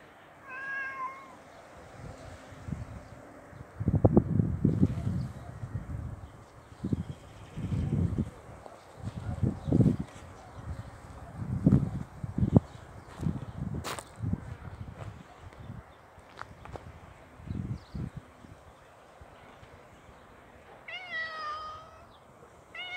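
A cat in a Mallorca garden meowing repeatedly as it follows someone around, with close, irregular calls over light wind and rustling outdoors.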